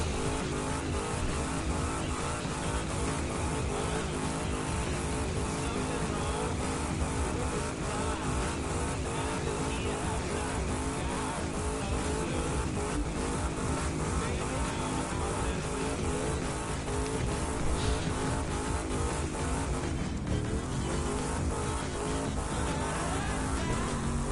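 A car engine from The Crew 2 racing game drones steadily for the whole stretch, loud and continuous with pulsing revs and a brief dip near the end, with no talking over it.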